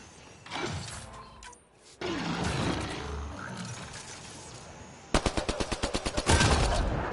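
Rapid burst of automatic gunfire in a video game, a run of sharp evenly spaced shots closing the clip after a stretch of noisy game ambience and rumble.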